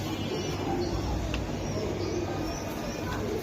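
Pigeons, including young birds, in a loft: soft low cooing murmurs under a constant noisy background, faint and continuous rather than distinct calls.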